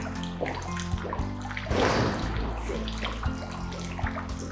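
Fresh spring water pours from a spa drinking tap in the German resort town of Bad Wildbad, a steady splashing stream that swells briefly in the middle, heard close with no talk.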